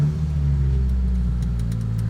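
A Toyota Celica engine turns over and settles into a steady low idle rumble, close and loud, with no voices.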